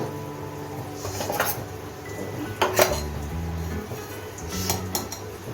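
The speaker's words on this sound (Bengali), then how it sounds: "এখন সব কিছু মিশিয়ে একটা পেস্ট তৈরি করে নেব" A spoon working ground spices, chilli paste, Kashmiri chilli powder, pepper and turmeric into a paste in a metal pot, with clinks and scrapes of metal on metal, irregular and close, no talking.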